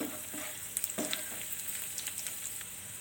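Banana kay pola mixture with cashews frying in a pan, a steady close sizzle with scattered crackles and light stirring scrapes, no voices.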